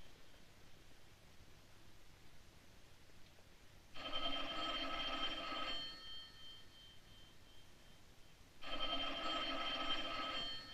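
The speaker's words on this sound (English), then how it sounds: "Answer the phone." An old 1940s telephone bell rings twice, each a rattling ring lasting about two seconds, with a pause between them over faint background hiss. No one speaks.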